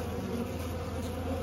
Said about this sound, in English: Just the bees that got left behind are finally coming out of the tree today.